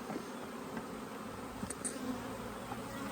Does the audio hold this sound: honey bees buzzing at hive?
yes